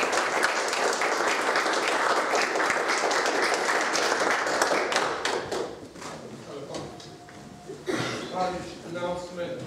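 Audience applause after a professor's lecture at an institute for advanced study, dense clapping for about five seconds that tapers off, followed by chair thumps and people talking.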